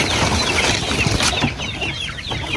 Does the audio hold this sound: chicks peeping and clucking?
yes